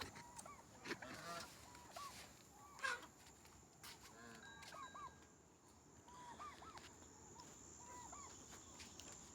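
Scattered honks from geese and ducks at a moderate distance, occurring in short bursts over a steady background of insect chirring.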